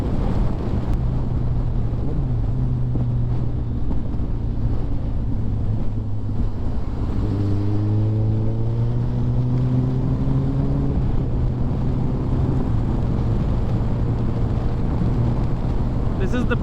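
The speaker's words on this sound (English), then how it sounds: "Only problem is the wind, and kitna bhi kuch bhi karo, wind will find its way." Wind roaring over a motorcycle rider on a cool early-morning winter group ride, a loud constant rush with a low engine drone and a brief rising whine partway through; no voices are heard.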